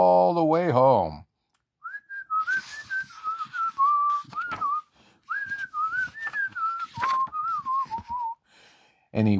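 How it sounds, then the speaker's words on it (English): A boy whistles a wandering, tuneful melody in short phrases with small gaps between them, clear and close, alone after a brief voiced sound at the start. "he whistled all the way home"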